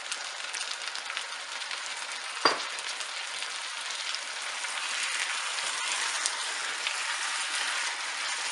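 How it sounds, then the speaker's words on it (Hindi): Paya, goat trotters, fries in a pot with a steady, soft sizzle. A single sharp clack rings out near the start as the hissing rises and falls gently throughout. "थोड़ी देर भूनना है, 1 से 2 मिनट के लिए।"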